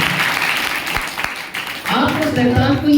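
A church congregation breaks into applause to thank God, a spread of clapping hands mixed with a preacher's raised voice speaking over it.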